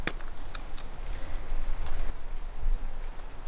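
Rain falls outdoors at night in a steady, dense patter with scattered sharper drops hitting nearby surfaces. It sounds fairly close, with no voices.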